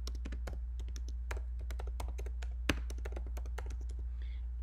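Fingers type a caption on a computer keyboard, a quick run of close, crisp key taps with an irregular rhythm and brief pauses over a low steady hum.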